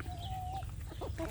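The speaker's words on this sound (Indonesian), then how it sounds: "ini jagonya termasuk jago besar" A big but not fully grown free-range rooster clucks in short throaty bursts at close range, with faint farmyard background noise.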